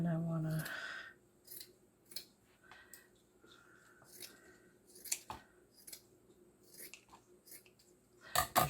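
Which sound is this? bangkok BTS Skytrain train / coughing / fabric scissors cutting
fabric scissors cutting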